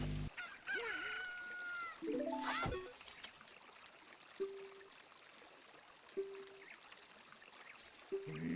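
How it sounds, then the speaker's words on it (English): Ocarina of Time chicken hatched from an egg crows loudly, a long cock-a-doodle-doo followed by a few short clucks spaced apart over a soft steady ambient background. "Holy crap, my egg turned into a chicken."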